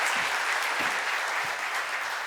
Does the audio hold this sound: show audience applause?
yes